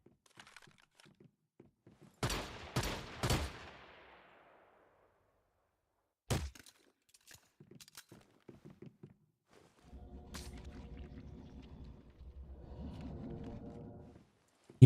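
Gunfire in the video game Once Human: a tight burst of three sharp, loud shots, then a single later shot, followed by a low sustained rumbling hum, with faint scattered clicks between.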